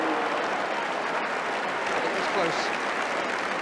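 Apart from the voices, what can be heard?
football crowd applause for Stuart Robson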